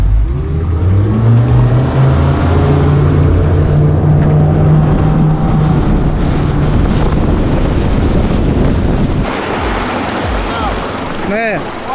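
Twin engines drive a Nikita SV 699 boat as it accelerates, a loud sustained roar with rising engine tones and rushing water, easing slightly near the end.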